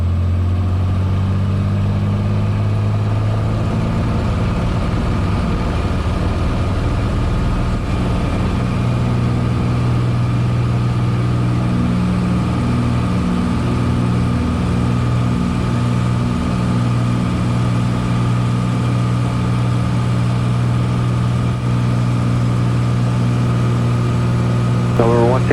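Engine of a 2008 Cessna Turbo 182T on takeoff, a loud steady drone with strong low tonal hum that shifts pitch as power builds, running continuously with faint radio-like voices beneath.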